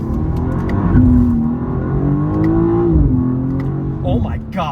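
A BMW G87 M2 accelerates hard with a loud, close engine note that rises and dips through gear changes and downshifts, and a voice briefly calls out near the end.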